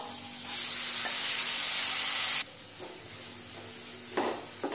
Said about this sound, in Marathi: हळद आपण परतून घेऊ आणि त्यामध्ये ही मटकी आपण टाकून घेऊया